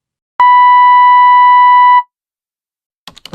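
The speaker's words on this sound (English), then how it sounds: "By 9:47, her phone was ringing." A phone rings as a sound effect: one clean electronic tone held steady for about a second and a half, loud and alone, then silence and a few faint rustles.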